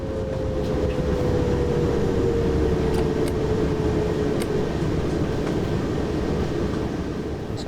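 A passenger train rolls along the Rhein-Ruhr main line in Train Sim World in fog: a loud steady rumble of wheels on rail with a faint sustained tone, plus a few sharp clicks as it crosses points.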